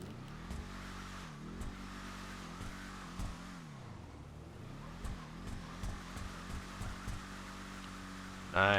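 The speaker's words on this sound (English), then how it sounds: "Definitely sounds like a muscle car." A Bravado Greenwood muscle car engine in GTA Online idles and revs in a game sound test, a low throaty rumble that rises and falls in several blips, heard close and fairly quiet.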